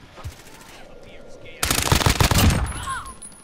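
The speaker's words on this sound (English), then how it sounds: "Keep shooting, Heather." Call of Duty Cold War Warzone gunfire, a quiet stretch with faint game sounds followed by a loud close burst of rapid automatic shots, with players talking over it.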